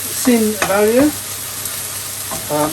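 Tikka masala curry cooking in a frying pan gives off a steady low hiss of sizzling in the background, while brief voiced sounds break in over it at intervals.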